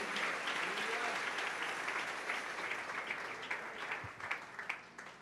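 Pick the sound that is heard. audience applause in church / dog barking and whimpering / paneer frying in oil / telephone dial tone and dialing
audience applause in church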